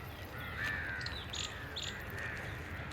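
Crows caw a few times outdoors, moderately distant, over a steady low background hum with no talking.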